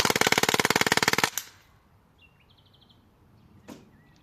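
A Crosman Fallen Patriots 4.5 mm air rifle fires a rapid burst of about fifteen sharp, evenly spaced shots, loud and close, which then stops. A faint click and a single thud follow in the quiet.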